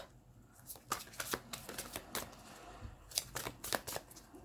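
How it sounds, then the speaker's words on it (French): Oracle cards being shuffled and drawn during a love-guidance angel oracle reading, a run of quick papery riffling flicks close by, with no talking. "Ensuite, je vais tirer une carte avec le chakra"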